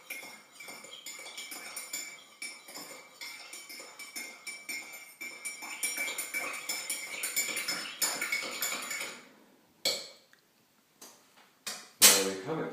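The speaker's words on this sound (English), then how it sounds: "take the teaspoon that you've been using and just give the product a good vigorous stir" A metal teaspoon stirring vigorously in a ceramic cup of tea, rapid rhythmic clinking against the sides for several seconds, close and clear, ending with a few separate taps and a louder clatter.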